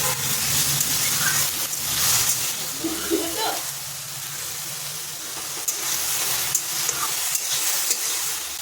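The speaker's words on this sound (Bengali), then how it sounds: "ওই যে বেগুনগুলো ভেজে নেব" Brinjal slices fry in hot oil in a pan, giving a steady loud sizzle with occasional stirring scrapes and bubbling pops, while a voice talks faintly in the background.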